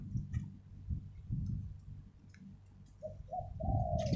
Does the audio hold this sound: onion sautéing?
no